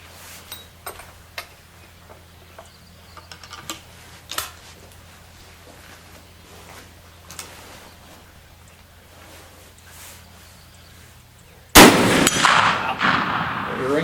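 Bullets strike a 1/2-inch AR500 steel target, giving faint, distant metallic pings at irregular intervals, then a sudden loud, sustained burst of noise near the end.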